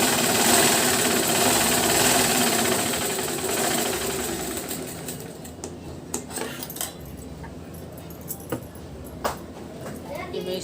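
Sewing machine stitching a blouse, a loud continuous whirring run at first that stops about halfway, followed by quieter clicks and handling noises while someone talks.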